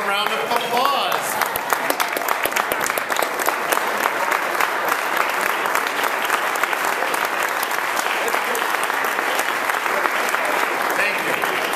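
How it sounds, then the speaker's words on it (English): Audience applause at a Rotary club meeting, a steady roomful of clapping hands sustained for about twelve seconds at moderate distance, with some voices in the crowd. "Please give a warm round of applause."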